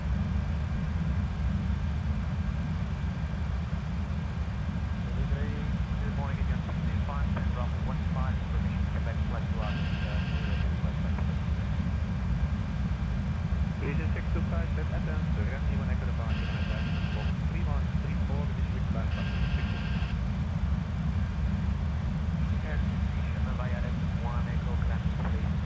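A Leonardo Maddog MD-80 slows down in Microsoft Flight Simulator, its engines a steady low roaring drone that fills the cockpit, with a few soft beeps and a voice talking over it.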